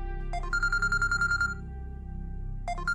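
In a Pakistani TV drama, a phone gives out an electronic ringtone: a rapid warbling beep pattern that repeats in bursts, clear and close, with no one speaking.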